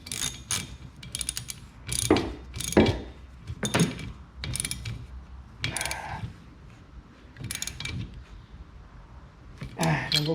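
Someone tightens a windshield cowl fastener on a Jeep Grand Cherokee, giving close ratcheting clicks in short bursts with pauses in between, while a person talks over the work.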